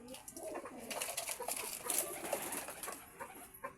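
Kept pigeons at a pigeon farm cooing softly and continuously in overlapping, throaty rolling calls, faint and close, with no talking.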